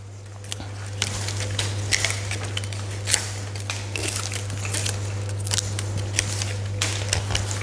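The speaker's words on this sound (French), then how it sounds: "Je vais tout couper et en biseau." Flower bouquet stems are cut at an angle with a knife, giving scattered crisp snaps and crunchy clicks over a steady low electrical hum, close and fairly quiet.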